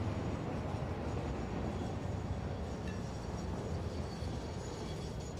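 A train in the factory-building game Satisfactory rumbles along steadily, a loud, continuous low roar with rail noise that holds at an even level and does not fade.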